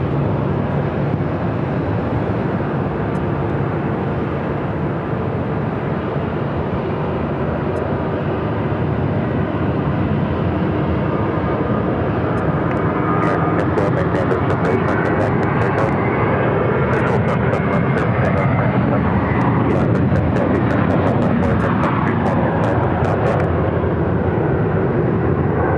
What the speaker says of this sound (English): Our next takeoff is the flight heading to Boston, JetBlue Flight 502.